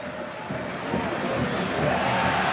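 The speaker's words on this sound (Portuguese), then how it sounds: "A torcida grita mais uma vez o nome do técnico Ricardo Gomes." Stadium crowd at a Brazilian league football match between Vasco and Grêmio chanting the name of coach Ricardo Gomes, a dense, steady roar from many distant voices that swells slightly louder partway through.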